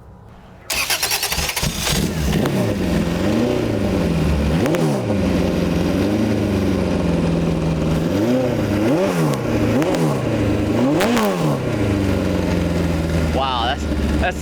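A tube-chassis Honda CRX race car with a 1.5 liter engine cranks and fires, then idles loudly and rises in a string of quick, sharp revs, with people talking nearby.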